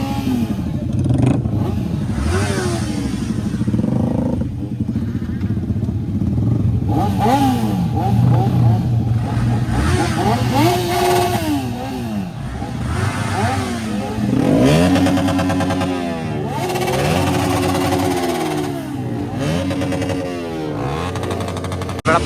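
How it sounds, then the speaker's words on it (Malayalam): A superbike, a C900, revs hard at a motor show in Thrissur, its engine rising and falling in repeated loud bursts with rattling mechanical clatter. Crowd noise and voices run underneath throughout. "ഒരു സൂപ്പർ ബൈക്ക് വന്നിട്ടുണ്ടല്ലോ"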